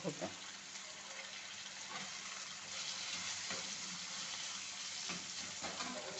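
Green chili, tomato and garlic sauté in hot oil for a village-style tur dal pendpala, giving a steady close sizzle with a few soft stirring scrapes and no talking.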